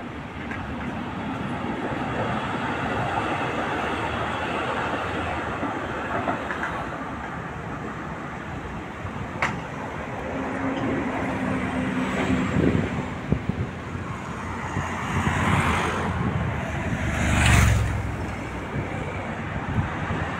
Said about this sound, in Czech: To je docela rušný tady, tady furt něco jezdí. Tramvaje, auta.